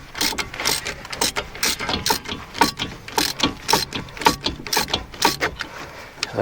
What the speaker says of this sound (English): I'm going to undo the other bolt and just take the caliper off.